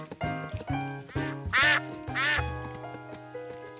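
Cartoon ducks quack in two loud, bright bursts over a steady orchestral music score, with no talking.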